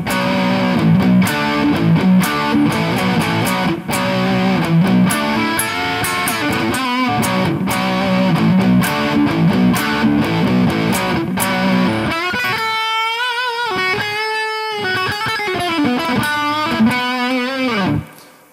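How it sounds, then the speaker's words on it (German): Electric guitar through a Hughes & Kettner Matrix 100 transistor amp head on the crunch channel with high gain and reverb, playing loud, continuous distorted rock chords and riffs, ending in sustained ringing notes before cutting off. "im nächsten Beispiel habe ich den Crunch-Sound an. Ich habe den Gain-Regler hier relativ hoch"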